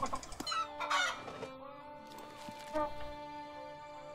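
Chickens clucking in the Star Stable horse-riding video game, a flock of close, loud clucks and squawks in uneven bursts, with a sustained crowing-like call and layered tonal game music underneath.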